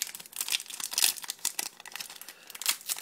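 A sealed Korean Pokémon card booster pack wrapper is torn open close up, a quick series of sharp crinkling and ripping bursts of foil plastic, with no talking.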